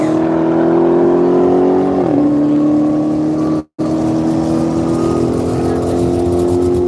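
Dodge car with Michelin Pilot Sport tires accelerating hard down the Texas Mile track, its engine drone loud and close and climbing steadily, with a brief shift dip midway and talk faintly underneath.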